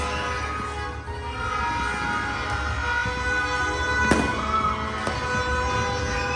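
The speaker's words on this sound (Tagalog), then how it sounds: "Makikikaw tayo ng fireworks." Faint, distant New Year fireworks pop a couple of times over a low, steady rumble of background noise.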